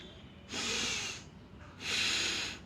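Two forceful exhaled breaths, each a broad airy hiss lasting under a second, close and fairly loud with a short quiet gap between them and no talking.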